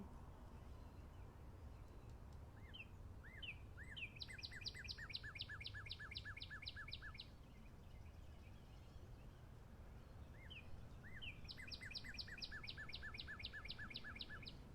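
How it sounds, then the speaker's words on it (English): Two bursts of a redbird's song, each rising whistles followed by a fast series of clear repeated chirps, moderately distant over a low outdoor rumble on a farm in the morning. "It's a redbird call"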